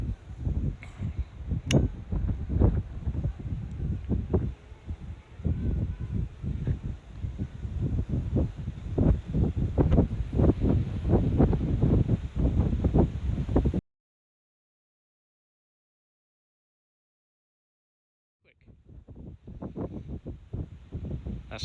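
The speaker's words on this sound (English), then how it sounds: "really strong wind. It's handling quite well." Strong 17 mph wind roars continuously outdoors while a DJI Mini SE drone flies, a loud gusting rush that cuts out entirely for a few seconds before returning.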